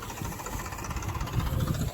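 A farm tractor engine runs steadily nearby with a low, rumbling idle and faint knocking, alone and without speech.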